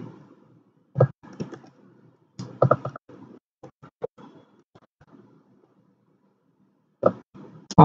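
Typing on a computer keyboard at a desk: sparse, quiet clicks and small clusters of keystrokes with long pauses between them, close and soft.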